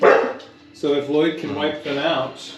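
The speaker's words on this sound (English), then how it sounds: "Sorry about my dog, video watchers." A dog barks in short yips and woofs close by, overlapping with someone talking during a Warhammer 40,000 tabletop game session.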